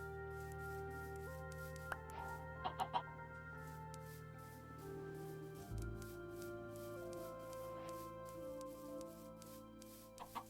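A Minecraft chicken gives several short, quiet clucks, clustered early on, over a soft, continuous in-game musical backdrop, with no talk.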